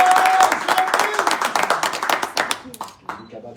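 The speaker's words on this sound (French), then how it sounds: "sous vos applaudissements" Audience applause welcoming a Guinean singer to the stage at a press event in Morocco, loud dense clapping that thins into scattered individual claps as a voice begins speaking near the end.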